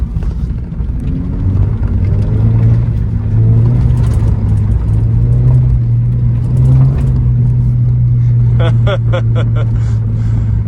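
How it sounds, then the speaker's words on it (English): A Subaru BRZ sports car drives hard on a filthy dirt road, its engine droning and revving steadily up close while tires crunch over the loose surface. Near the end, sharp rattling bursts sound as it goes over bumps. "So let's see if we can do a little rallying out here."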